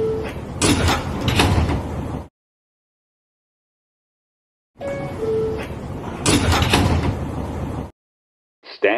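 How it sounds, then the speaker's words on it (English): Sliding doors on a New York City subway D train rumble and thud shut in two separate bursts, each a few seconds long, with silence between them. "Stand clear of the closing doors, please."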